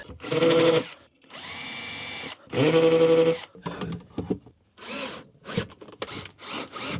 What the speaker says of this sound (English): put the insert plate in and drill as 2 pilot holes